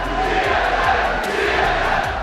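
A home arena crowd at a League of Legends Worlds 2013 match roars in a dense, sustained wall of cheering and shouting, loud and reverberant throughout.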